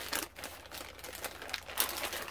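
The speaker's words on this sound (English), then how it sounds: "So let's just try to rip the bag open" A plastic package bag holding eyeglasses is torn open by hand, giving quiet, irregular crinkles and tearing rustles close by with no talk.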